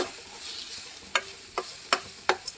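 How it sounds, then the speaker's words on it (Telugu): Mint leaves frying in a pan for a mint and coconut chutney, heard as a faint, quiet sizzle broken by four or five sharp, separate crackles and stirring scrapes near the end. "బాగా వేగింది కదా"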